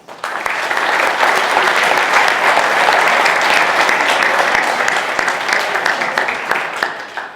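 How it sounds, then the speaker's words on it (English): Conference audience at a London tech event breaks into applause, a loud, dense burst of many hands clapping that swells quickly and holds steady before tapering at the end. "Huge round of applause for Daniel Finneran, please."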